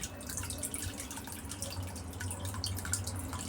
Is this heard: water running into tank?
yes